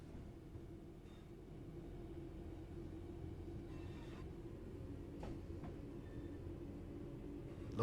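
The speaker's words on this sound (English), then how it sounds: "Wait for the train to reach 30 kilometers an hour." A train running in the Train Sim World 6 simulator gives a steady low rolling rumble throughout, with a few faint clicks and brief higher tones over it. No one speaks.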